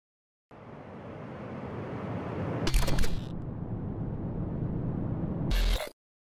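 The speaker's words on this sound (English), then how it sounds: "We have to add this glitch sound effect for the shutter zoom glitch transition." A glitch sound effect for a shutter zoom transition plays as a sustained burst of harsh, static-like noise, interrupted by two sharp crackling glitches before cutting off abruptly.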